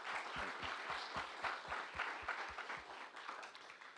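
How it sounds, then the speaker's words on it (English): An audience at a health lecture series gives a round of applause, with many hands clapping in a dense, moderately loud burst that holds steady and then eases off slightly. "please give them a nice round of applause and thank you"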